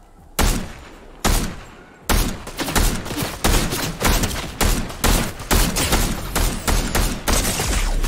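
Gunfire from the video game Fortnite: a rapid series of loud, sharp shots in bursts, roughly a dozen cracks over several seconds with brief gaps between volleys, heard close and alone.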